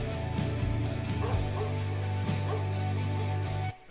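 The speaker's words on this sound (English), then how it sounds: "We got some dogs barking." Dogs barking and yipping inside a spliced music sample with heavy delay, several short barks and whimpers repeating over a steady tonal musical bed, loud and close.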